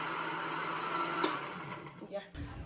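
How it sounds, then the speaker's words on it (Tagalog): A blender whirs steadily at a constant pitch in a home kitchen, then stops abruptly near the end. "Bine-blender na ni Tia Cesa."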